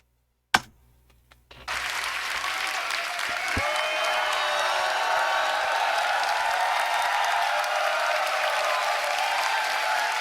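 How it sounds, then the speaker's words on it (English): Crowd at the Grand Beatbox Battle 2024 Loopstation small final bursts into loud, sustained applause and cheering after a sharp click and brief lull, a dense steady roar of clapping that holds evenly to the end. "One more round of applause for Rage"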